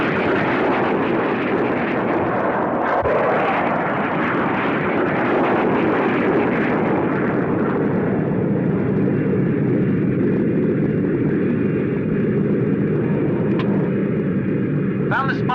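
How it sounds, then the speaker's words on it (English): Propeller observation planes in the 1965 monster film Gamera fly overhead as a loud, continuous broadband engine roar with a dense rumble, holding steady throughout before the upper hiss thins out near the end. "I will have to order up the observation planes"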